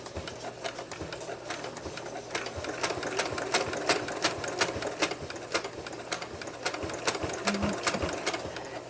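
Sewing machine stitching across the ends of a fabric potholder, a fast steady run of needle clatter that labors slightly, moderately near and with no talk.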